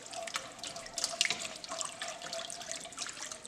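Stock pours into a sauce pot for baked chicken lasagna, a quiet liquid trickle and splash with small drips, faint and close, with no talking.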